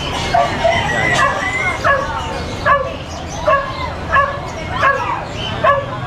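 At an outdoor pet market, a small dog barks and whimpers repeatedly in loud, evenly spaced yelps close by, with market chatter underneath.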